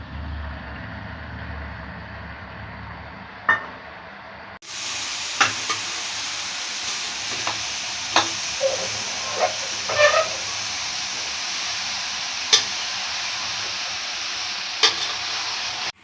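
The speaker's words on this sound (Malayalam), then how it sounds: "എൻ്റെ മസാലയും ഇതിലിട്ട കായ്കറിയും എല്ലാം കൂടിയിട്ട് നന്നായിട്ട് ഇളക്കി യോജിപ്പിച്ചിട്ടുണ്ട് ഞാൻ." Green peas and vegetables are stirred with masala in a hot pan, giving a steady sizzle with scattered scraping clicks of the spoon against the pan throughout.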